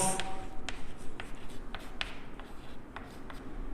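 Close pen-on-paper writing during a math lesson: a steady run of short, light scratchy strokes and taps, with no talking.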